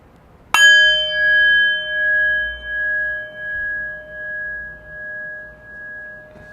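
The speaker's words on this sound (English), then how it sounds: "I will ring the bell, ending our second round of meditation" A single meditation bell is struck once to close a sitting session, giving a sharp strike followed by a long, pure, pulsing ring that fades slowly over several seconds in a quiet room.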